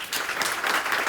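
A live open-stage audience claps briefly to vote by applause, a short burst of moderate, fairly close clapping from a small crowd.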